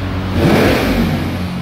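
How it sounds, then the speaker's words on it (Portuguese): A Mercedes S63 AMG twin-turbo V8 revs through its titanium exhaust with the valves closed, a deep, loud roar that swells and eases back over a moment. "Já tem um ronco forte, né? Quando é um V8, biturbo, AMG."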